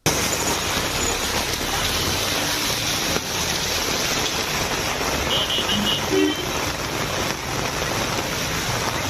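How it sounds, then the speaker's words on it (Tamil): Heavy rain pouring down around Tiruttani with water pooling on the road, a dense, steady hiss of rainfall that runs unbroken throughout, with a faint vehicle-like rumble underneath and no speech. "திருத்தணி மற்றும் சுற்றுவட்டார பகுதிகளான ஆர்கேபேட்டை, பள்ளிப்பட்டு, திருவாலங்காடு உள்ளிட்ட இடங்களில் கனமழை கொட்டி தீர்த்ததால் சாலையில் தண்ணீர் தேங்கியது"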